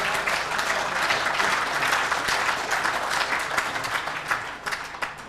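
A large audience at a Welsh press awards ceremony in 1995 applauds loudly and steadily, dense clapping that holds for several seconds before tapering slightly at the end.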